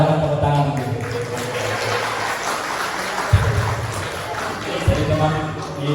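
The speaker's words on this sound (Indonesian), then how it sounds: "Tepuk tangan." Applause from an audience at a university student Maulid gathering, a steady wash of clapping that fills the space and sits over a low hum, with a couple of louder thumps partway through.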